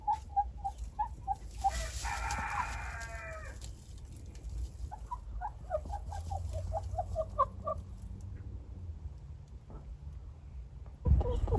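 Hens cluck and squabble over a nesting box in a coop, with repeated short clucks in bursts, a raspy drawn-out squawk early on, and a busier run of clucking later, all fairly close with no talking.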